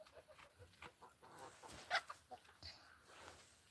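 A farm rooster clucks in scattered bursts, with one louder call near the middle, close by amid faint farmyard noise.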